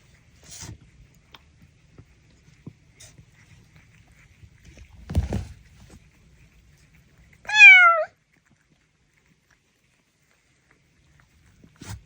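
A single short cat meow rises clearly near the middle of an otherwise quiet indoor scene, with a few faint rustles and thumps around it; the cats are a father and mother pair.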